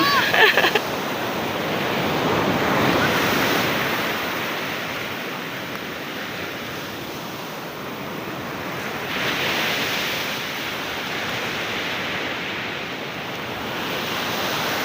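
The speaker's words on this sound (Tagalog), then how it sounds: "Napakalakas ng alon." Strong sea waves crash onto a sandy shore, a loud broad roar that swells into two big surges and recedes between them, with brief voices at the very start.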